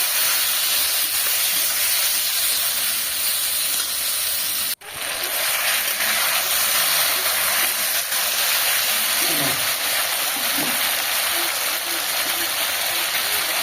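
Cumin, ginger and chilli sautéing in a pan with a little water, a steady loud sizzle and hiss that briefly cuts out once before carrying on, with a few faint clinks.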